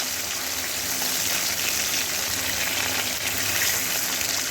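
Gulsha tengra fish frying in oil, a dense, steady sizzle that stays loud and even from start to finish.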